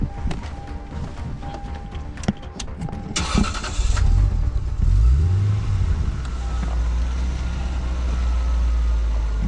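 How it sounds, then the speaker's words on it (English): A used Lexus car cranks and fires up, running briefly with a low engine rumble before shutting right off, heard close and alone without talk. "Car starts up and then shuts right off."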